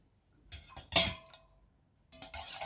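Utensil stirring colored candle wax in a pot while making scented candles at home, with clinks and scraping against the pot in two bursts split by a brief pause, close and fairly loud, with no talking.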